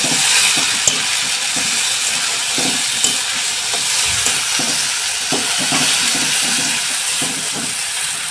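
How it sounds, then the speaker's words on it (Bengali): Turmeric-laced spice paste sautéing in a pan for a Bengali katla fish head muri ghonto, a steady close sizzle and hiss with intermittent scraping stirs throughout, no voices. "দিয়ে মশলাটাকে আবার আমি আরেকটু কষিয়ে নেব"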